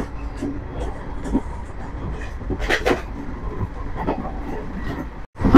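The Balurghat Express pulls out of Gajole station with a low rumble and scattered clanks and knocks, moderately close, and a louder burst of noise at the very end.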